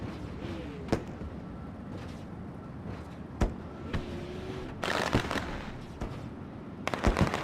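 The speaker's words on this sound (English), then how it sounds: "there goes the fireworks, initiating the start of the race here" Fireworks go off to start a dirt track race, a string of sharp cracks and bangs spread over several seconds, with some bursts clustered close together and others spaced apart over a quieter outdoor background.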